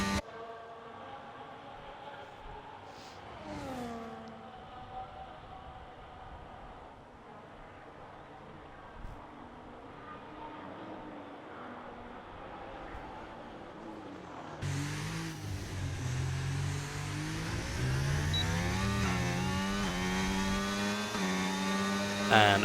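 An F1 car in a racing game, running the Belgian Grand Prix, drones steadily through a corner and then climbs loudly as it accelerates, its pitch rising through the gears with a brief downshift early on.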